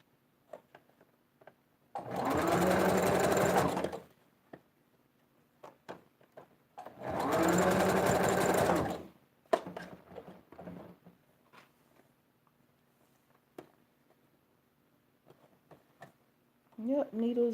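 A sewing machine stitching wig wefts runs in two steady bursts of about two seconds each, loud and close, separated by quiet handling noises and small clicks.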